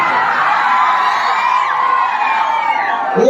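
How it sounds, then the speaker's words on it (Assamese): A large audience at a comedy show roars continuously with cheering and high-pitched shouts, a loud dense wash of voices that holds steady throughout. "এই যে চিঞৰ এই যে হাত চাপৰি"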